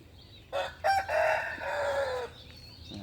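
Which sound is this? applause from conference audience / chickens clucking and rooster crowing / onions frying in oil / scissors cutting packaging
chickens clucking and rooster crowing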